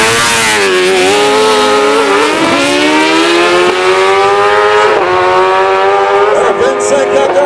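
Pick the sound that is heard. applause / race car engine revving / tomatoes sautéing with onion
race car engine revving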